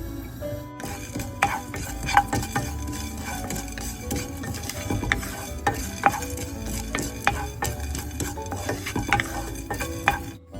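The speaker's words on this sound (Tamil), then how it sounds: "நான் கொஞ்சம் மிளகு, பெருஞ்சீரகம், அதோட 2 ஏலக்காய் இதுகள் வறுத்து எடுக்க போகிறேன்" Pepper, fennel seeds and two cardamom pods dry-roasted in a pan for squid curry, a steady scrape and stir with a faint sizzle and frequent sharp taps of a utensil against the metal, close and continuous throughout.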